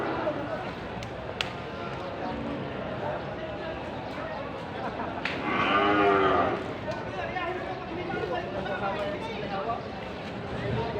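A water buffalo (carabao) at a livestock market lets out a single drawn-out moo at mid distance, rising above steady crowd chatter and nearby voices talking throughout.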